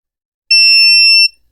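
A multimeter on a continuity test gives one steady, loud, pure-toned beep of under a second, alone and close, while a Nintendo 3DS XL that will not power on is being repaired.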